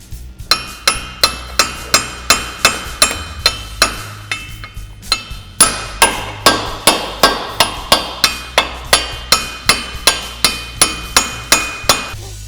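A hammer taps steadily on a stuck inner race on a Polaris RZR UTV hub, about thirty sharp metallic strikes at a fairly even pace, close and clear, with a short pause partway through.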